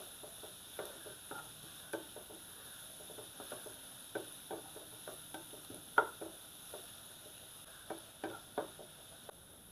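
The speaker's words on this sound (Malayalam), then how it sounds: "സവാള നമുക്കൊന്ന് നന്നായൊന്ന് വഴറ്റിയെടുക്കാം." Onions sautéing in a pan for a Kerala stuffed squid dish, a faint low sizzle broken by frequent light ticks and scrapes of a spatula, with a steady hum in the background.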